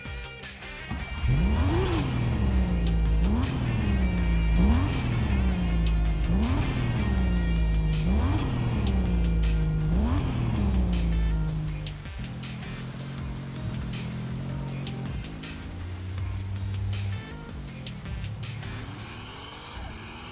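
A tuned Nissan GT-R race car set up to respond like a Mitsubishi Evo MR revs hard through about six rising gear pulls, then settles into a steadier engine drone, loud and close with no talking.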